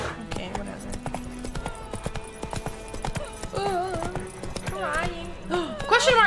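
Hoofbeats of the horse Roach running in the video game The Witcher 3, rhythmic clip-clop pounding under game music and ambient effects, with a voice talking over it.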